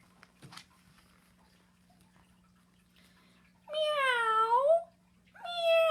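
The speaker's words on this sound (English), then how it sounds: ""Meow, meow," cried the cat." Two drawn-out cat meows, the first long and wavering, the second starting just after, close and clear against a quiet background with a faint low hum.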